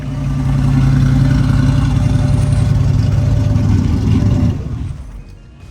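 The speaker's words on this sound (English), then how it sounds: "Small block Chevrolet with a power glide. Nice looking car, sure sound good." A small block Chevrolet engine with a Powerglide automatic runs loud and close, its low rumble revving steadily before dropping away toward the end.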